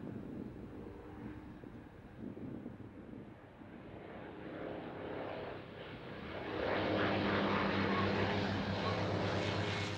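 A North American Mustang warplane with an Allison piston engine drones on with a steady propeller hum under wind buffeting, swelling louder and fuller in the later seconds.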